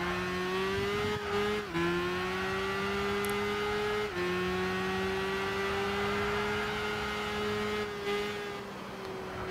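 Steady engine drone of a Caterham race car in Gran Turismo 6, held at high revs through most of the run with brief dips at gear changes, continuous and close with no talking.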